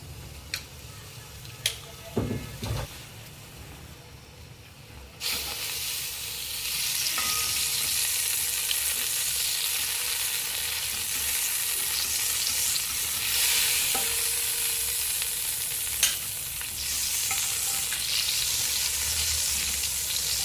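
Desi ghee heats and melts in a cooking pot, starting with a few clinks and stirring knocks before settling into a steady, soft sizzle that continues close by and moderately quiet to the end.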